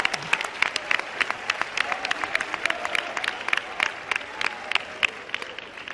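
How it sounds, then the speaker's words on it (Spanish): A crowd at the 2021 France vs Spain petanque world championship final applauds steadily for several seconds. Dense, even clapping mixes with a little crowd noise and sounds fairly loud and close. "hay que darle un aplauso a Jesús Escacho."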